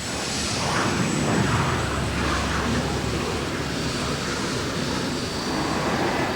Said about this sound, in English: Hey, Toppy, that's our plane, isn't it?